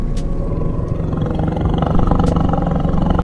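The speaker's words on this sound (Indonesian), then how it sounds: "Terdengar suara harimau yang sedang kelaparan." A hungry tiger lets out a loud, close, rumbling roar that swells and grows stronger toward the end, with a couple of brief sharp noises along the way.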